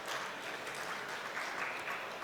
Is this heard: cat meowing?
no